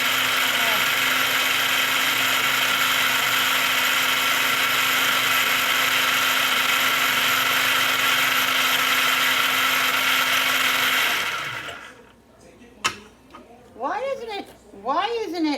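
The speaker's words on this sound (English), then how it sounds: "I'm gonna get my little chopper out for this because I don't feel like chopping it by hand right now." Electric food chopper whirring as it chops a bowlful of basil, a loud steady drone lasting about eleven seconds before cutting off, followed by a few faint clicks and brief speech.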